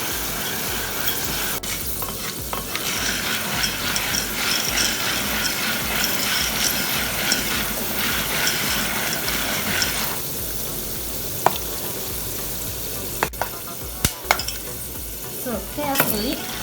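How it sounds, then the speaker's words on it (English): Soya beans frying in hot cooking oil, a continuous close bubbling sizzle with occasional sharp pops and light scraping near the end. "So carefully, we put our soya beans into the cooking oil."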